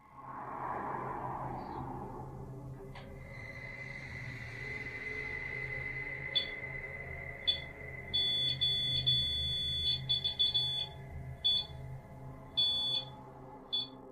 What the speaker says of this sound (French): on entend du mouvement et le pod REM se déclenche à nouveau